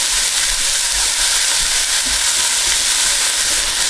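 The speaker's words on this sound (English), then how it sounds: "we're going to brown this off" Meat browning in a frying pan, a loud, steady, close sizzle and hiss that runs unbroken without any voices.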